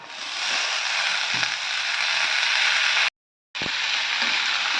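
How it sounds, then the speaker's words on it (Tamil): Ivy gourd sautéing with onions in a pan over a low flame, giving a steady, close hiss of sizzling oil with faint stirring clicks and a brief cut partway through. "வெங்காயம் ஓரளவுக்கு வதங்கிருச்சு கோவக்காயை போட்டுக்கலாம்"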